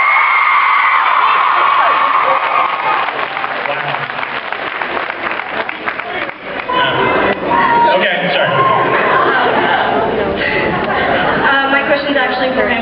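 Large Comic-Con 2009 Supernatural panel crowd applauds loudly, with screaming, whoops and cheering piled over steady clapping for several seconds; the roar dips briefly midway, then surges again as voices shout through it.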